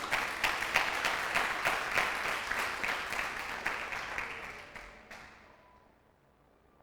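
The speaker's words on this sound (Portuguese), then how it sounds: "Dá um aplauso ao Senhor aí." A church congregation applauds during a sermon, dense clapping that holds steady for about five seconds, then fades out quickly to near silence.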